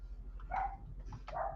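Two short dog barks from dogs reacting to squirrels and birds outside, each a brief yelping burst separated by a pause, moderately close over a low background hum.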